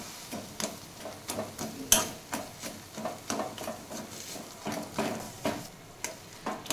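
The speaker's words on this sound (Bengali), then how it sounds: "এবার এই বেগুনটাও আমি 5-7 মিনিট ভেজে নেব।" Roasted, peeled eggplant fries in a pan while a spatula strikes and scrapes in a regular rhythm, about two or three knocks per second over a faint sizzle.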